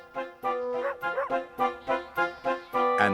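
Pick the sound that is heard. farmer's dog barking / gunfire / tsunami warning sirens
farmer's dog barking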